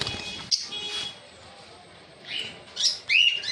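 Small conures, lovebirds and cockatiels chirp and tweet close by in several short bursts, with quiet gaps between calls.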